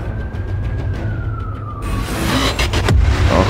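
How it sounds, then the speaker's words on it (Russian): A police siren in the video game Transformers Forged to Fight wails in a slow falling tone, steady and fairly loud, then gives way to rumbling crashes and game noise toward the end. "полиция ехала, вот прям сирены слышала"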